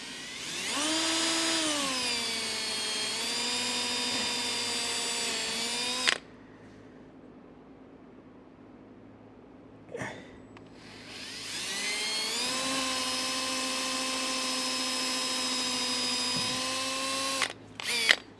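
A power drill whines at high speed while drilling into a 2007 Sea Chase 200 flat boat during an underwater light install, two long sustained bursts separated by a quiet pause, close and loud.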